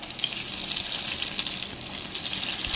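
Cumin seeds and green chilies fry in hot oil, a dense, even sizzle that crackles steadily and close for a few seconds with no voices over it.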